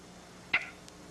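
A voice imitates a comma with a single short, crisp click-like mouth sound in Victor Borge's phonetic punctuation style, heard once, close and alone in an otherwise quiet room.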